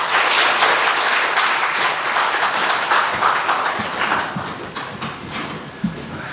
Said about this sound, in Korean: 이제 목사님 나오실 때 우리 큰 박수로 우리 환영해 주시면 감사하겠습니다.